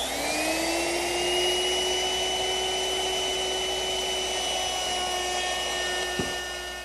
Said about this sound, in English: I'll ease the edges using a router with a 1/4 inch rounding over bit